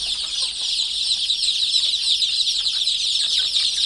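Dense, continuous high-pitched cheeping from many young chicks, steady and close throughout, with no talking.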